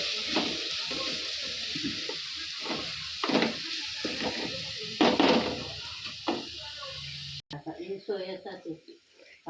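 Grated carrot being stirred into vegetables frying in a pan, with a steady sizzle and repeated scraping stir strokes, ending with a few clinks.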